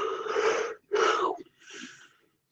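A person yawns aloud in a long drawn-out breath that rises, breaks briefly, then trails off into a softer sigh, close and alone.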